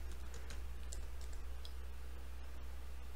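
Quiet, close keystrokes tapping out a short search query on a computer keyboard, a quick run of light clicks over a low steady hum.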